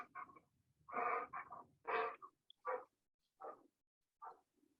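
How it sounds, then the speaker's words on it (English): A dog breathes heavily nearby in a series of loud, raspy huffs, each separated by brief pauses, growing shorter toward the end. "that's a big sounding breath going on."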